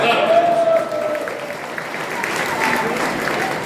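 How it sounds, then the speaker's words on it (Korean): A talk-show audience gives a short burst of applause that fades into a steady low crowd murmur, with voices talking over it. "박수."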